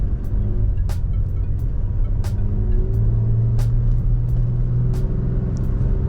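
A Toyota Tacoma pickup's engine labors uphill around 3,000 RPM, a steady low drone with road rumble underneath and occasional short clicks or ticks breaking through.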